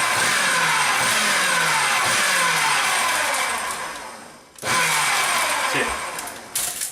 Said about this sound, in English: put in our food processor our flour, our almonds, and our sugar